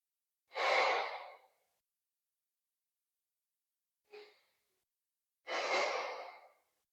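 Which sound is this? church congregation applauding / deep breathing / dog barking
deep breathing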